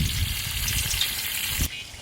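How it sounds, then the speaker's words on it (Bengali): Cooking oil pours into a pot for meat, a steady liquid gush with a light sizzle that cuts off abruptly near the end. "মাংসটা রান্নার জন্য তেল দিয়ে দিলাম"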